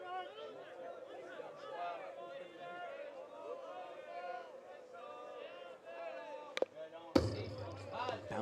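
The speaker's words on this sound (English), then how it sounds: "Bouncing ball goes back and almost takes out our microphone, our ambiance mics back there" At a men's softball game at the Canada Games, Manitoba against Newfoundland, a ball bounces back toward a nearby ambiance microphone, giving a couple of sharp close thumps over steady crowd chatter and commentary.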